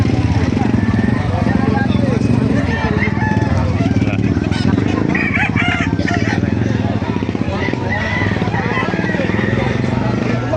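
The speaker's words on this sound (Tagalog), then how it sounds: "Yung mga manok na dito sa Baliwag." Roosters crow and hens cluck amid a noisy, crowded outdoor chicken market in Baliuag, Bulacan, with people talking and an engine running throughout.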